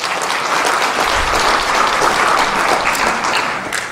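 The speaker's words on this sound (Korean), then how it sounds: "여러분 박수 부탁드립니다" An audience at a book launch event for a National Assembly member claps steadily in a loud, even burst of applause lasting several seconds, tapering off slightly at the end.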